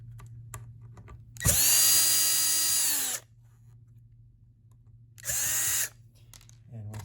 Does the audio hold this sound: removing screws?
yes